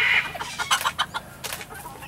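A rooster clucks in a quick series of short, close clucks, with a brief higher squawk at the start.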